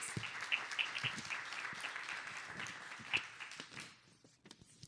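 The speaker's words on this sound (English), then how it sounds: "Give her another round of applause." An audience at a community development speaker series in North Omaha claps steadily for a speaker, moderately distant and sustained, tapering off toward the end.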